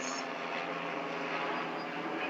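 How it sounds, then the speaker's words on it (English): Military helicopter flying over a residential area in Monroe, Michigan, heard as a steady, moderately distant rotor and engine roar that holds evenly throughout, with no talking. "evidently a military helicopter has been surveilling the area"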